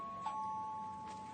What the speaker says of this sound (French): Active le ding-dong.